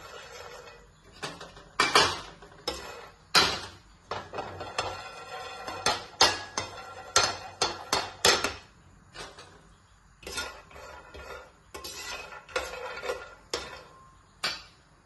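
Peanuts dry-roast in a hot pan while being stirred, giving close, irregular bursts of rattling and scraping clatter that come in quick clusters with short pauses between.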